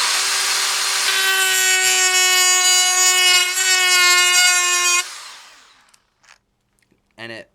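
A DeWalt DCG426 cordless die grinder runs at its third speed setting, a loud, steady high-pitched whine for about five seconds before spinning down, followed by a few faint clicks and a short rattle.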